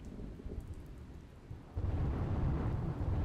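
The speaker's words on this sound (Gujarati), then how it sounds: "મુંદ્રાના ટુંડા ગામ પાસે ફૂંકાયો ભારે પવન" Heavy wind and rain from Cyclone Biparjoy near Tunda village in Mundra, Kutch, a steady roaring rush that swells louder midway through, with no voices.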